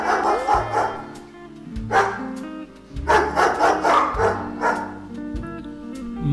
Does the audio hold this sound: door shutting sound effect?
no